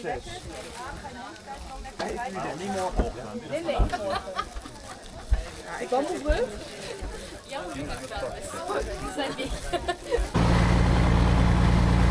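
A boat engine runs steadily in Laos, heard from just behind it, its low mechanical rumble rising into a louder, constant drone near the end while voices chatter over the top.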